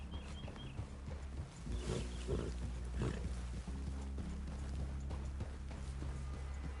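Horses move through a clearing near a cabin in the video game Red Dead Redemption 2, a steady low rumble of hooves and tack with scattered thuds, close and continuous, with no voices.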